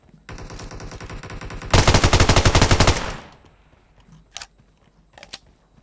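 Automatic weapon fire rings out in the mobile battle-royale game PUBG Mobile, a loud, close, rapid burst lasting over a second, preceded by steady in-game rattle and followed by a couple of faint distant shots.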